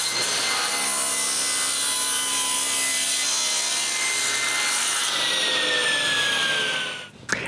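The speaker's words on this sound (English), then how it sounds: "Then, I cut some wood to fit this." Saw cutting a piece of wood to fit a box's hole, a continuous close rasping stroke that runs steadily for several seconds before stopping abruptly.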